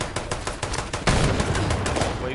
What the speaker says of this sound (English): Let's shoot some grenade over here.